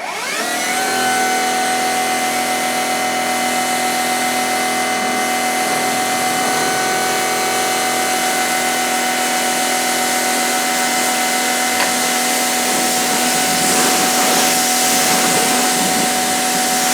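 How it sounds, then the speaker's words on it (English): A Sun Joe SPX6000C-XR electric power washer fitted with a 40-degree nozzle runs steadily, a close, even motor whine with a constant tonal hum and spray hiss, no voices. "I also love how whisper quiet this thing is compared to other electric power washers."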